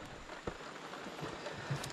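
Steady rain patters on a river surface and nearby gear during prawn fishing, a soft continuous hiss dotted with a few louder drops.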